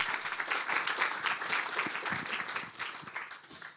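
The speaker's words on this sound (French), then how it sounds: "Alors, on peut l'applaudir." Audience applause, many hands clapping in a dense patter that stays steady and then slowly fades toward the end.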